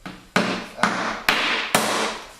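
Four sharp hammer blows tacking down roofing felt land at an even pace, each ringing out with a bright, lingering resonance.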